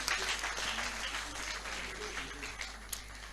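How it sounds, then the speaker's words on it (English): An audience at an engineering conference opening ceremony applauds the society's president with steady, dense clapping that continues throughout at a moderate distance, with a low hum beneath it. "Can we please applaud my president once again?"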